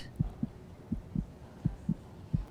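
Heartbeat in a paired lub-dub rhythm, four double thumps evenly spaced, soft and low, alone against a faint hum.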